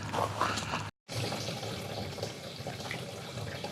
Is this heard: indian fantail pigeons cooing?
no